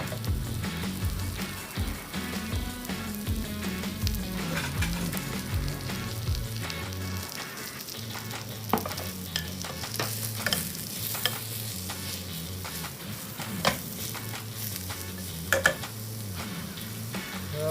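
Teriyaki chicken sizzles in oil in a frying pan seasoned with pepper and salt, a steady crackling hiss with occasional louder pops and utensil scrapes, close and continuous with no voices.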